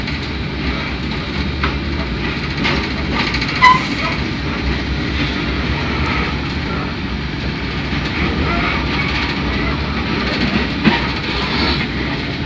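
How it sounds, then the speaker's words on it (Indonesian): Bima executive passenger train pulling out of Surabaya Gubeng station, a steady rumble of rolling cars with faint clacking and a couple of brief sharp knocks, heard close and continuous for the whole stretch. "sesaat lagi kereta api Bima akan diberangkatkan dari stasiun Surabaya Gubeng"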